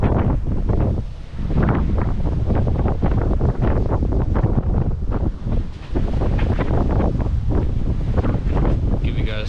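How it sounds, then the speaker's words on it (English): Strong gusts of wind roar continuously over a sailing boat at sea moving at 6 to 13 knots, a loud broadband rush buffeting the microphone with brief dips and surges. "we're getting some pretty decent gusts of wind"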